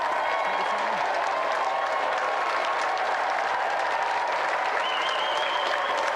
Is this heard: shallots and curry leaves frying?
no